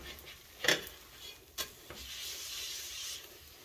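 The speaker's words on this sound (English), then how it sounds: "we're frying up our tortilla. Move it around in the pan." A tortilla scrapes and rubs against a pan as it is slid around, with a couple of sharper knocks over a soft frying hiss.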